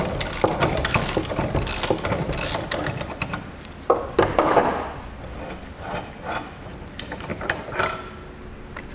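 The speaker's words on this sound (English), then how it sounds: "We're going to use a couple of 19 millimeters. We just need to get our bolt pulled out of there." Two 19 mm wrenches loosening a bolt on a Dutton-Lainson trailer winch, with close mechanical clicking, clanks and metallic scraping in uneven bursts.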